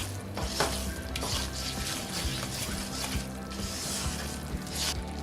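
Cardamom powder and raisins are stirred and roasted in a pan for flaxseed pinni, with continuous close scraping and soft rustling and a low sizzle throughout.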